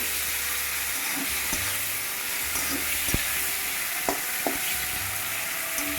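Turmeric-coated prawns fry in a pan with a bright, continuous sizzle, close up, broken by a few sharp taps and clicks of stirring and a low intermittent hum beneath.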